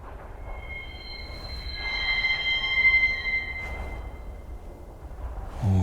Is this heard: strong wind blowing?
no